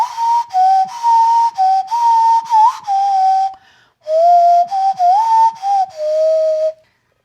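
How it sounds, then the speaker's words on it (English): A wooden nose flute plays a breathy, whistle-like melody in short sustained notes with slight pitch bends, close and clear, split into two phrases by a brief silence. "It's a wooden nose flute, and it sounds something like this."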